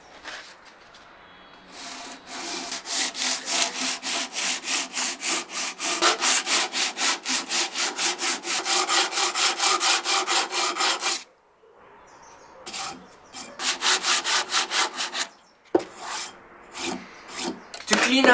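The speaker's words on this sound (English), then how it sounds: "I used a piece of sandpaper fixed to a large-ish block to help with stability" Sandpaper fixed to a large block rasps over the painted surface of a vintage table saw in quick, even back-and-forth strokes. It pauses briefly, then resumes in shorter bursts.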